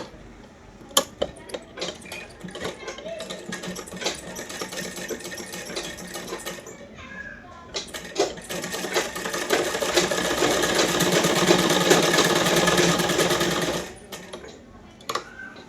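A sewing machine stitches a salwar suit neckline in short bursts and then one long, steady run of close mechanical whirring, with clicks and fabric handling between the runs.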